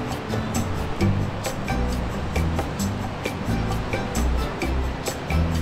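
Wild surf with many beginner surfers in the water, rough ocean waves rolling and crashing in repeated bursts, a steady wash of water noise at moderate distance.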